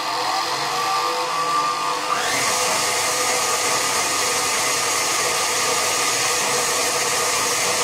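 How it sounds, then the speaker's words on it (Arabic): An electric mixer whips cream in a bowl for a watermelon-shaped ice cream, giving a steady, loud, continuous motor whir that runs unbroken and close throughout, with no talking. "نضربو لاكريم حتى كطلع، انا ضربتها مزيان"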